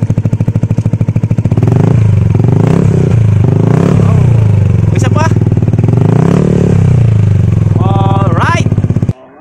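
A Yamaha Aerox v2 scooter fitted with an Akrapovic muffler, run without its silencer insert, revs hard and close, its loud raspy exhaust surging and dropping in repeated throttle blips with clattery crackles throughout.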